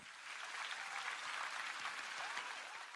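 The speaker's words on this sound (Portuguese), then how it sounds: "Dê para si mesmo um grande aplauso, igreja." A church congregation breaks into sustained applause, a dense, even wash of clapping from many hands that swells and holds for several seconds.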